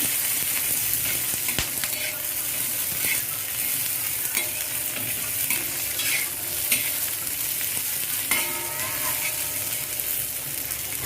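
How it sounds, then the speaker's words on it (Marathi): Steady, loud sizzling of food frying in hot oil, with occasional stirring scrapes and clicks throughout and no voices. "चांगल्या मिरच्या लसूण थोडंसं आपल्याला तेलामध्ये क्रिस्पी करून घ्यायचं"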